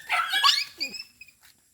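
Dogs waiting near a garbage bin give a few close, sharp barks that break into higher yips and whimpers, then fade to quiet.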